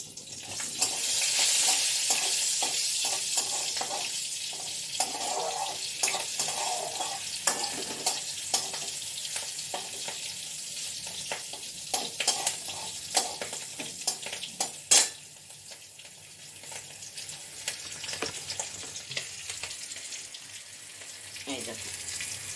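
Slit green chillies stirred in hot oil give a steady sizzle with repeated sharp scraping clicks from the spoon and one louder knock near the end, with faint water-like hiss running underneath.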